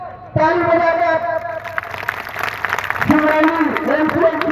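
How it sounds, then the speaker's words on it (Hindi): A crowd claps at an outdoor protest rally in Singrauli against a displacement payout, with loud voices shouting over it and a broad clatter of applause building from about midway and continuing to the end. "जोरदार ताली बजाकर"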